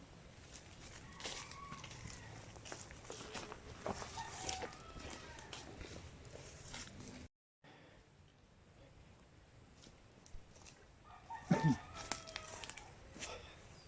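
Chickens and a rooster on a rural property, scattered clucks and a crow heard faintly in the background under casual conversation, with a short break in the sound partway through.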